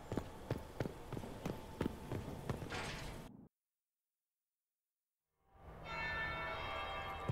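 A bell in Dragon Age: Inquisition strikes in a quick regular series of about nine ringing hits, followed by sudden silence and then a louder, sustained resonant ringing tone; no speech.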